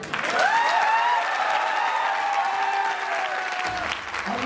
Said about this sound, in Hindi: थोड़ी ताली अच्छी बजा दो।